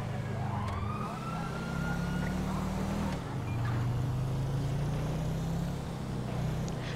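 A video-game police car siren in GTA V wails and rises steadily over a loud engine drone, continuous and close throughout.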